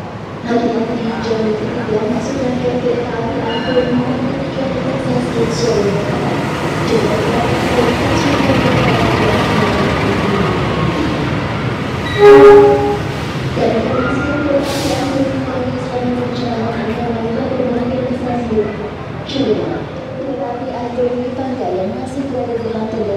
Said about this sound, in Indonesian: Dan masuk di jalur 3 adalah kereta Dwi Pangga.